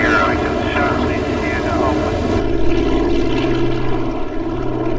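Propeller airplane engines drone steadily during a long-distance flight toward Malta, a loud, even cabin hum with harmonic whine, while a narrator speaks over it.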